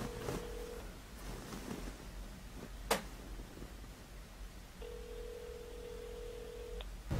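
A telephone on speakerphone calling out: a ringback tone, a sharp click, then a longer second ringback tone, all heard alone against faint room noise.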